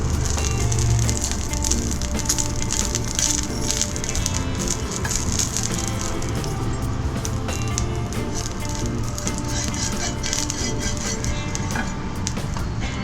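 Oil heats on a new grill pan over a low gas flame before chicken patties are fried, giving a steady, close crackling sizzle that holds for the whole stretch without talk.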